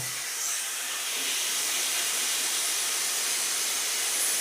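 Thinly sliced bottle gourd pieces dropped into a hot pan give a steady, loud broadband hiss of sizzling that swells slightly and continues unbroken.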